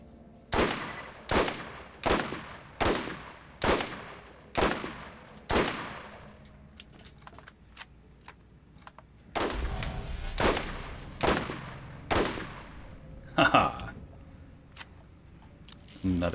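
Gunfire from an incendiary revolver in the Borderlands video game, a steady run of sharp, loud shots about two per second, then a pause with faint clicks before another burst of evenly spaced shots.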